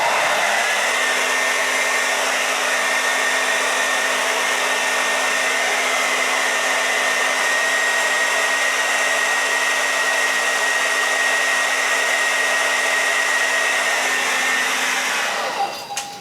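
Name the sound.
hairdryer blowing cold air on a beard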